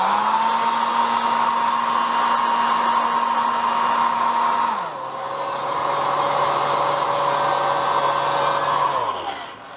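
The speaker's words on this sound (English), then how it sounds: "So I'm gonna shoot it with my hairdryer." A handheld hairdryer blows on a wet watercolor painting of trees, giving a loud, steady whirring roar. Its pitch drops about halfway through, then it shuts off near the end.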